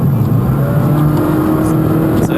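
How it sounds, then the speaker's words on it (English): A car engine runs at a steady drone through the cabin during a test drive of a hacked car, loud and continuous with a constant low hum, no talk, and a brief shift near the end. "try to listen to the engine"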